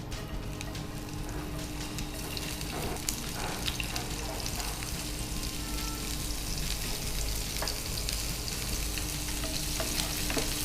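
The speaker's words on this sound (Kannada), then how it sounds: "ಸ್ವಲ್ಪ ಕಂದು ಬಣ್ಣ ಬರುವವರೆಗೂ ಹುರಿಯೋಣ." Sliced onion and a bay leaf frying in a pan until brown, with a loud, continuous hissing sizzle and occasional faint scrapes of a stirring spoon.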